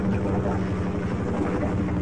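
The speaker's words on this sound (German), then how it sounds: "Da ist der Hubschrauber, da kommt er." Helicopter approaching in the video game Half-Life, a loud, steady rotor drone with a pulsing low thump that fills the whole stretch without pause.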